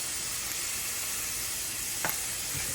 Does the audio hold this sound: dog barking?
no